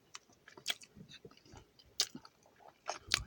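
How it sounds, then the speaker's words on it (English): Someone chews the last mouthful of a Pop-Tart, with soft, close, irregular crunching and moist bites spread over a few seconds in a quiet room. "Chewing up the last mouthful."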